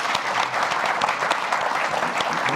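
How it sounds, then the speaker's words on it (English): An audience claps for a panel of speakers at a conversation event, a brisk, dense burst of hand claps lasting a couple of seconds, close and lively, with no talking over it. "A round of applause, please, for our panelists"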